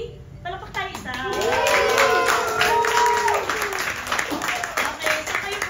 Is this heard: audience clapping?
yes